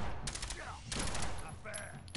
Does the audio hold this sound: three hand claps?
no